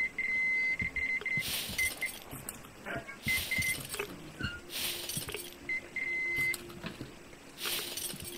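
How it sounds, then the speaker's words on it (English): In the video game Metro Exodus a high electronic beep repeats at intervals in short bursts, broken up by louder rustling and footstep-like noises between the beeps. "Where is this beeping?"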